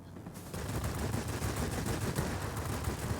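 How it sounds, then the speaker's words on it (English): Sustained rapid machine-gun fire from an S-199 Sakeen fighter plane in World of Warplanes, a dense continuous rattle of bursts starting after a brief quiet moment and running steadily to the end under engine noise. "I shoot at the tornado that's coming towards me"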